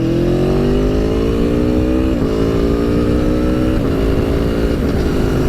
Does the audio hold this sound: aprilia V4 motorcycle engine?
yes